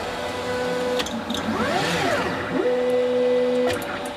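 3D printer homing all of its axes on a G28 command: stepper motors whine with rising and falling pitch sweeps, then hold a steady tone before a click as the carriage stops, loud and close with no talk.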